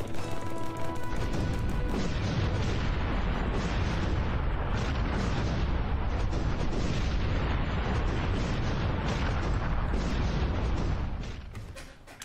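Sustained heavy shooting in the video game Trigger Runners, loud crashing blasts and booms blending into a dense roar for about eleven seconds before fading quickly at the end.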